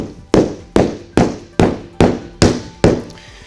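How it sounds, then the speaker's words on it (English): Seven sharp, solid thuds at an even, steady rhythm, loud and close, as a rubber mallet taps push-lock flooring planks together. "as you're tapping the mallet, you can hear the floor engage"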